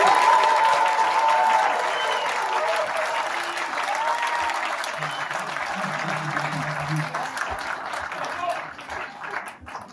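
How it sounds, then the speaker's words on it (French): A town hall audience at a mayor's New Year greetings ceremony applauds a man named Jacques Ferreira, steady clapping that slowly fades, with a few voices murmuring underneath. "Allez, applaudissons-le."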